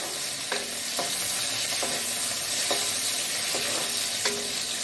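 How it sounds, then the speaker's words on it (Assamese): Chopped onion frying in a pan for a mixed vegetable dish, with constant sizzling hiss and a regular series of spatula scrapes about once a second, close and steady without talk. "পিঁয়াজটো অলপ ৰঙচুৱা কৰিম"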